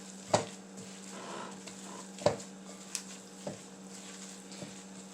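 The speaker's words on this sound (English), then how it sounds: "Then I'm just going to work the beef over, mix it in." Ground beef being stirred and fried in a pan: a steady low sizzle with a few scattered spoon-on-pan scrapes and taps, fairly quiet and close.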